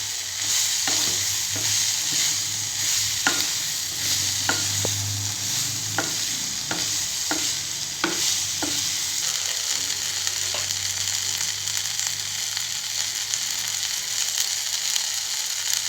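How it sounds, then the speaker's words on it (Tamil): Cornflour is stirred into a broccoli soup mixture frying in a pan, giving a steady soft sizzle with a run of spoon scrapes and taps against the pan, close by and without talk. "இதையும் நல்லா மிக்ஸ் பண்ணி விட்டுக்கோங்க."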